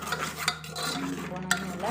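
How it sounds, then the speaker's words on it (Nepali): A spoon scrapes and stirs yogurt in a pan over a low gas flame while the yogurt fries for a pressure-cooker biryani. The strokes are close and continuous, with a soft sizzle underneath and no talking. "दही हालेपछि दही चाहिँ एकदम सानो ग्यास बनाएर चलाउनु होला"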